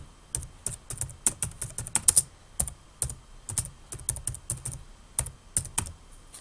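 A computer keyboard types a book title into a library's online catalogue search field: a steady run of quick, close key clicks in irregular bursts with short pauses, no voices.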